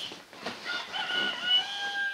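A rooster crows in a video game, one drawn-out, rising call that stands alone and clear for about two seconds.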